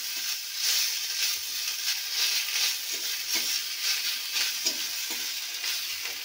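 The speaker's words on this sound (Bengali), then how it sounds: "এবার ধনে পাতা কুচিটাকে দিয়ে দেবো, সব অনেকটাই পরিমাণ মতো। ধনে পাতাগুলোকে একটু নাড়াচাড়া করে নিতে হবে।" Chopped coriander leaves sizzle and fry in a pan, stirred with steady scraping strokes under a continuous close hiss, with no talk.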